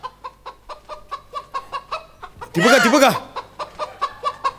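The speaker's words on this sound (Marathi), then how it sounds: "कोकिळीच्या आवाजावरती रान कोंबडी आली आहे" A jungle fowl gives a loud, harsh crowing call in the middle, set among a steady run of regular clucking notes from nearby fowl, with a brief spoken remark.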